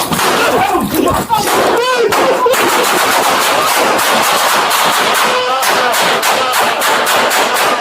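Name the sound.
gunshots fired during a police confrontation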